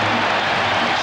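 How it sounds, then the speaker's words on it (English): A basketball crowd at the United Center gives a standing ovation during the 1996 NBA Finals Game 6, Bulls against SuperSonics, with dense, steady applause filling a short stretch. "Standing ovation from this crowd at the United Center."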